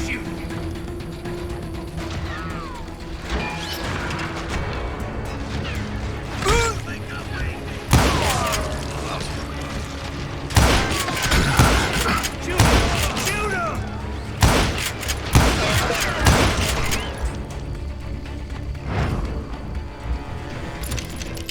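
Western gunfight in the game Call of Juarez: Gunslinger, with sharp gunshots and loud bursts scattered over a steady background hum, punctuated by impacts and mixed with character voices.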